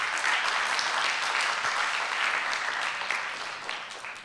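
An audience applauding at a hip hop talk event, a steady dense burst of clapping from a crowd that carries on evenly and tapers slightly at the end.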